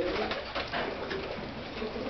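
A pigeon coos close by, soft repeated throaty notes over about two seconds with no one talking.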